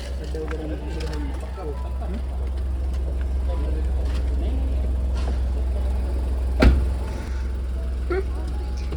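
A car rolling slowly along a road with a steady low engine rumble throughout, a brief bump near the end, and voices faintly present in the background.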